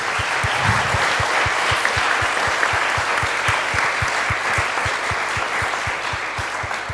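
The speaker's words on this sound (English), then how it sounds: "Can we give them all another round of applause?" Sustained, dense audience applause at a constituency election hustings, many hands clapping steadily and loudly for the candidates, with a faint rhythmic low thumping running beneath.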